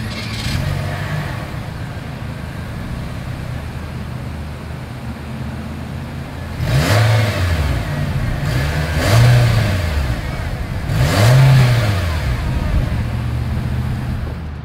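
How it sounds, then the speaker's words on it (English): A 2021 Nissan Versa engine idles with a low exhaust rumble, then revs sharply three times, each burst swelling and falling back to idle. "As always, here is that exhaust clip."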